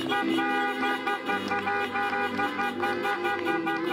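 Several car horns honk together in a sustained, overlapping blare at a drive-in church service, with engine noise underneath and no talking.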